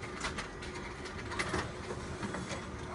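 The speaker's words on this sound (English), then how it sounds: "my printer is now starting to print the rest of the jobs" Office printer printing a run of copies, quiet mechanical whirring with soft rhythmic clicks and feed rattles, steady and close.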